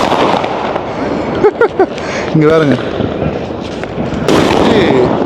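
Firecrackers burst in a Chennai street celebration with loud, close pops and crackling bursts in irregular clusters, one sustained fizzing spray near the end, while someone talks over them.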